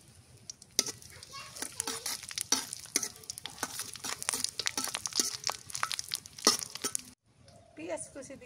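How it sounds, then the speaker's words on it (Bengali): Bay leaf, cardamom, cinnamon and cloves fry in hot oil for a goat meat and raw banana curry, giving a soft, close sizzle with stirring scrapes. Voices talk faintly underneath and the sizzle cuts off near the end. "তেজপাতা দিয়ে দিলাম 3টে বড় এলাচ দারচিনি লং এলাচ"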